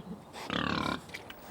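Essex pigs grunting in a farm courtyard, a single sustained snorting grunt fairly close, with quieter snuffles around it.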